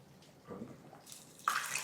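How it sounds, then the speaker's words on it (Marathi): Hot water is poured into a simmering sprouted moth bean lentil curry to thin it, a soft splashing pour starting partway through the short, quiet moment and growing brighter toward the end. "कन्सिस्टन्सी ॲडजस्ट करायला आणखी थोडं पाणी,"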